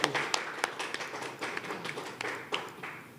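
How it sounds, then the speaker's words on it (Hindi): Scattered applause at an award show rises for an honoured guest, with soft, uneven claps and a few sharper individual hand claps standing out against quiet room noise. "तालियां हो जाए उनके लिए"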